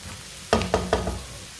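Masala and vegetables cooking in a pan, a soft sizzle under three quick stirring scrapes, close and quiet with no talk.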